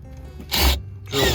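Two short power-drill bursts boring through the bed of a 2021 Ford F350 pickup while a Retrax tonneau cover is fitted, close and loud with a brief pause between.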